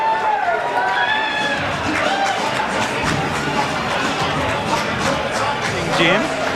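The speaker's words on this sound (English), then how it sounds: "You can hear the crowd." Crowd noise fills a junior middleweight kickboxing bout between Australia and the USA, a dense continuous roar with scattered shouts and whoops throughout, staying loud from start to finish.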